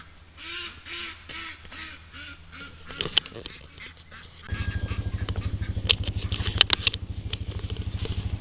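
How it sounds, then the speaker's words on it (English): Penned ducks quack loudly and repeatedly, eager to be let out, with a rapid harsh chorus that grows denser and louder partway through, joined by a steady low mechanical drone. "now it's time to let out the quacky packies. They sound like they in a tizzy to get out."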